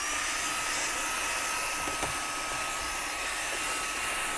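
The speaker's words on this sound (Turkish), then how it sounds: "2 milyon liralık bir aracın şu anda konsolunu iyi vakum süpürgeyle" A Xiaomi Mi Vacuum Mini handheld vacuum runs steadily while cleaning the console of an expensive Porsche test car, giving a constant close-up whine and airy hiss with no talking.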